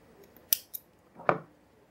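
Scissors snip through yarn while a crocheted pencil souvenir is being made, giving two or three crisp, close cuts with no talk.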